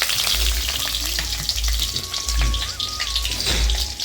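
Sliced onion and two bay leaves sizzle steadily in hot oil, a dense crackling fry that holds close and loud throughout, with a faint tonal whine threading behind it and no voices.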